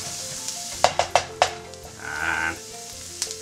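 Spare ribs with onion and garlic caramelizing in a pan, a low steady sizzle broken by a few sharp knocks and scrapes of a wooden spoon and a brief louder hiss, with no talking.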